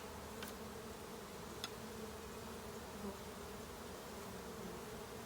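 Honeybees buzz in a dense, continuous drone during a hive inspection in May, close and steady, with a couple of faint clicks and no voices.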